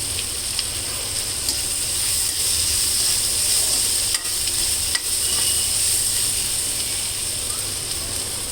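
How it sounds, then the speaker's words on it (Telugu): Broccoli with red, green and yellow capsicum fries in a pan over a low flame, giving a continuous, even sizzle with occasional soft clicks of stirring, close and alone. "ఇట్లా సిమ్లో పెట్టుకొని ఫ్రై చేసుకుంటే బాగుంటుంది."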